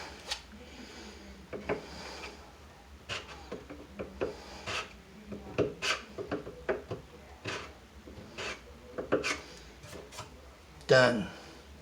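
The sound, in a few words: scraping topcoat off wooden cabinet face frame edges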